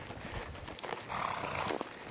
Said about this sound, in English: Karen riding the wild Colors, chasing some wild cows